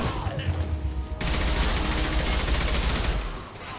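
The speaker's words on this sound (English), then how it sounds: "Firing concussive shot!" A concussive shot is fired in Mass Effect 2, a sudden loud blast that breaks into a sustained roaring wash of noise lasting a couple of seconds before fading.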